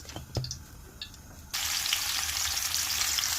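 Garlic, onion and tomato sautéing in oil in a pan, a few light clinks of stirring first, then a sudden loud, steady sizzle and crackle that carries on, close up and without speech.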